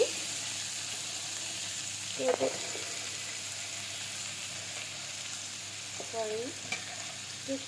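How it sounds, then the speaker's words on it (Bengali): Cut potato and pumpkin frying in a pan: a quiet, continuous sizzle with a brief stirring clatter near the middle and another toward the end, no voice over it. "এখন আমি দিয়ে দিচ্ছি এর মধ্যে আলু এবং মিষ্টি কুমড়া।"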